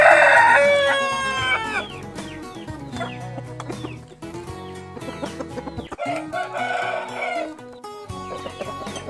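Several roosters crow and cluck loudly and close by, calls overlapping in a busy barnyard chorus while the birds are being fed corn, beet, carrot and egg.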